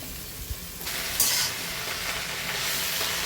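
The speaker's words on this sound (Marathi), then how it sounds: "लसूण मिरची वाटून घेतलेली आहे ती तेलामध्ये परतून घेणार आहोत थोडंसं ते तेलात परतल्यानंतर मध्ये मेथीची भाजी टाकते" Fenugreek leaves with ground garlic-chili paste fry in hot oil in a home kitchen pan, giving a steady broadband sizzle that jumps louder partway through as the leaves go in, with a brief stir clatter near the start.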